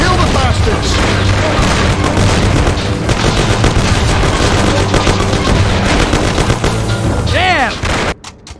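Intense gunfire in a shootout in the video game Mafia: The City of Lost Heaven, with rapid, continuous loud shots and booms and voices shouting amid the firing.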